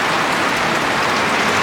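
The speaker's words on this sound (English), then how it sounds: "About time we got some good rain." Heavy rain pours steadily in a backyard, a dense, loud and even hiss of falling water with no break and no voices.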